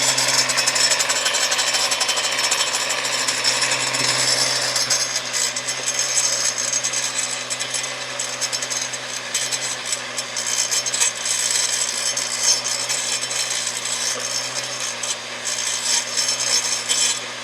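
A lawn edger with a replacement blade cuts along a grass edge, giving a steady loud engine drone with gritty scraping and rasping from the blade biting turf and soil, continuous throughout with no talk.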